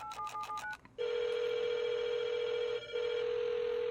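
A telephone rings inside the Rust video game while a call is placed from a directory, with a few short dialing beeps giving way to a long, steady electronic ring tone, briefly interrupted once, clear and alone.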